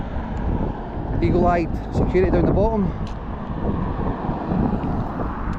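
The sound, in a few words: wind blowing across the microphone outdoors at a port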